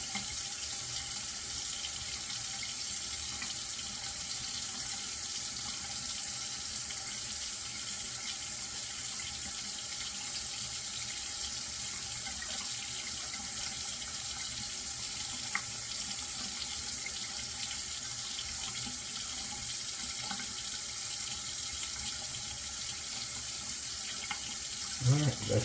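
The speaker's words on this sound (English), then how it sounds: "Sorry, I let that water run." Tap water runs steadily from a faucet into a sink during a shave with sandalwood shaving cream, a continuous hiss that holds even and unbroken throughout with no talk over it.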